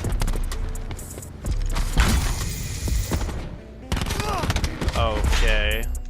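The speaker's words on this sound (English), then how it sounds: "Teammates are shooting at me." Rapid gunfire from Black Ops 4 crackles in bursts of automatic shots and single cracks, loud and close, mixed with game effects and whooshing sounds.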